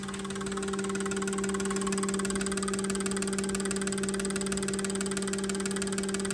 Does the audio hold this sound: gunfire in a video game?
no